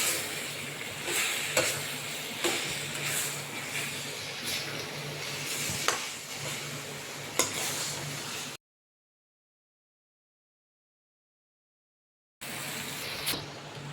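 Pasta being stirred into simmering, bubbling masala, a steady sizzle and hiss with a few sharper scrapes of the spoon. The sound drops to silence partway through before the cooking noise returns, with no talking.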